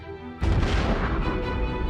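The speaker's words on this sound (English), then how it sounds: "They die in some of the most violent explosions ever to rock the universe." A dying massive star's explosion rendered as a sound effect: after a brief hum, a sudden deep boom bursts in and rolls on as a loud, sustained, crackling rumble.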